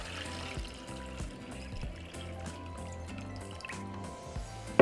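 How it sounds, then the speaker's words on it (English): Water runs into a kitchen pot over rinsed potatoes, giving a steady low trickling and dripping fill with a faint tonal hum underneath and a sharp clink right at the end. "now we're just going to cover our potatoes with water"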